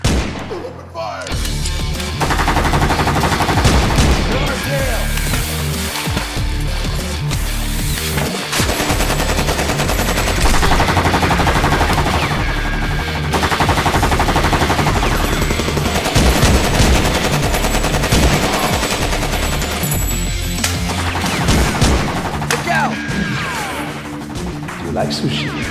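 Loud, dense bursts of movie gunfire, with rapid machine-gun volleys and crashing impacts layered over music and shouting voices, running continuously with little pause.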